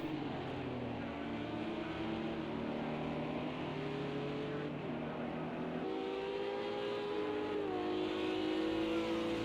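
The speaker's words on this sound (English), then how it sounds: "is also under pressure from Andu in the BMW." GT3 race cars lap a Texas road course in the racing game Project CARS 2, engines droning steadily with rising and shifting revs as gears change, a continuous moderately loud whine without voices.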